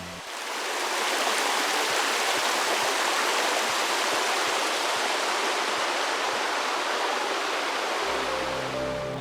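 Water rushes steadily over a creek spillway on an Arkansas stream, a loud, dense, unbroken roar that stays constant throughout, close by and with no voices.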